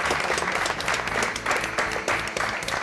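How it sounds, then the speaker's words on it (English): An audience gives a warm round of applause for a science centre director at a demonstration-based science quiz show in Kolkata, a steady, full wash of clapping that carries on for a few seconds. "we must give a very warm round of applause to Mr."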